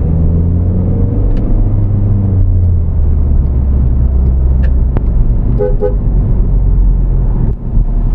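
A 1.9 liter TDI diesel car engine drones steadily with a low rumble, revving under hard acceleration with a whirring tone, close and loud throughout.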